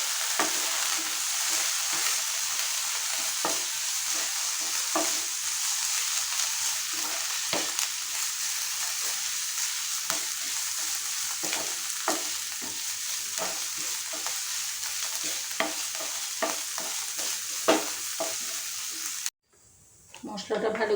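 Garlic and ginger paste with spices being sautéed and cooked down in a pan for an ivy gourd masala: a constant close hiss and sizzle with regular scraping stirs, ending with an abrupt cut to quiet before the sizzle resumes.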